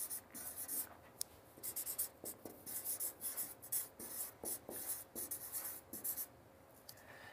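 A pen drawing on paper makes close, scratchy strokes in quick irregular bursts, with short pauses between lines and occasional sharp taps, fairly quiet with no talk.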